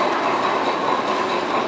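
A G scale model train runs on a stand at a model railway exhibition, giving a steady, close rumble and rattle of wheels with a dense hall-like noise throughout.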